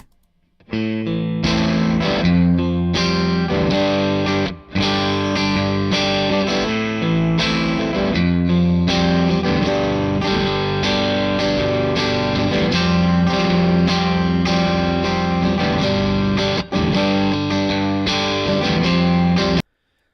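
A heavily distorted electric guitar plays dense, sustained chords and riffs through an amp, loud and continuous for the whole stretch with only brief breaks.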